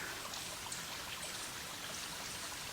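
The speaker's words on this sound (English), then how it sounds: "there's water running down in there too" Water trickling and dribbling inside a collapsed old mine opening, a steady hissy wash of running water heard at a distance, faint and unbroken for the whole stretch, with no voices.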